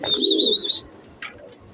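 Racing pigeons at their water give a soft cooing call up close, followed by a couple of fainter brief chirps after a pause.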